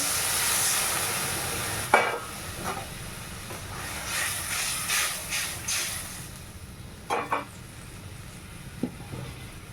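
Water poured into a hot pan of spiced hilsa fish head and tail hisses in a steady broadband sizzle, with a few clanks and bursts of stronger spluttering along the way.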